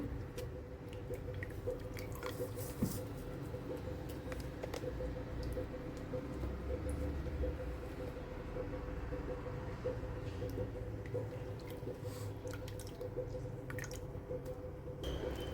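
Wet squishing and dripping as soft fresh homemade butter is squeezed by hand, continuous and close, with steady liquid squelches throughout.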